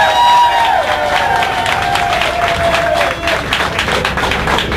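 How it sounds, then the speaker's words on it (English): Loud sustained applause and cheering from a crowd aboard the cruise ship MS Mount Washington for Governor Gary Johnson, dense clapping throughout with a whistle-like tone gliding down early on. "A big round of applause for Governor Gary Johnson."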